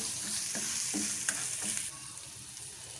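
Spice mixture of coriander powder, crushed coriander, crushed chillies and salt frying in a pan for dhaba-style aloo paratha, with a steady sizzle and repeated scraping stirs of the spoon, no talking.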